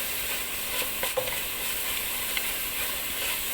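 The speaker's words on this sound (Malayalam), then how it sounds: "നന്നായിട്ടൊന്ന് വഴറ്റിയെടുക്കാം" Masala for a roasted-coconut crab curry sautéing in a pan with turmeric powder, a constant close sizzle with soft scraping stirs and no talking.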